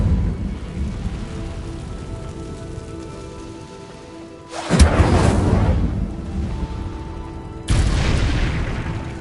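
Incendio fire spell cast in the game Hogwarts Legacy: two sudden loud whooshing bursts of flame, the first at mid-clip and a second shortly after, each rising sharply over a low rumbling ambient background.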